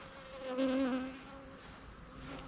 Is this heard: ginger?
no